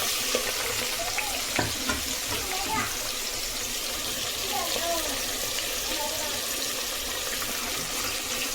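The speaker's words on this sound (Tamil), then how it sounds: "நல்லா வந்து வதங்கட்டும் ப்ரௌன் கலராக வரட்டும்" Steady sizzling and crackling of chopped onions frying in a hot pan, continuous throughout with occasional clinks of a utensil stirring.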